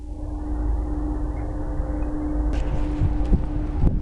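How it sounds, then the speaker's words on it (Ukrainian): Steady low rumbling wind buffeting the microphone on a mountaintop in Georgia, loud and continuous throughout, with a few faint clicks and knocks near the end. "Тут дуже сильний вітер."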